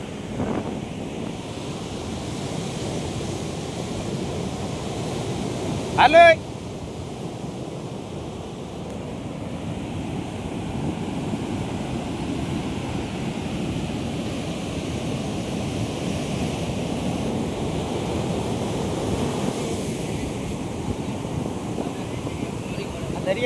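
Sea waves wash continuously onto the shore, a broad surf rush mixed with gusty wind buffeting the microphone, and a voice briefly calls out partway through.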